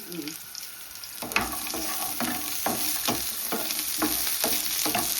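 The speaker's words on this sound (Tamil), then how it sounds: "இதை வந்து எண்ணெயில் லைட்டாக வதக்கி எடுக்கணுங்க" Onion, garlic and ginger sizzle in hot oil in a pan while being stirred for a chicken curry, with a steady frying hiss broken by regular scraping strokes of a spoon, close and fairly loud.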